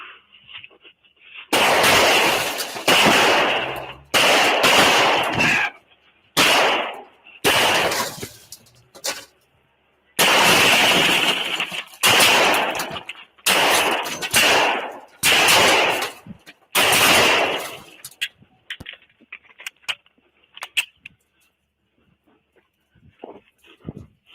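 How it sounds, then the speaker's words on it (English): Gunfire captured by a police dash cam: a rapid series of loud, sharp shots in close bursts with brief gaps, punctuated by shouting voices, then quieter after the shooting stops. "Shots fired, County."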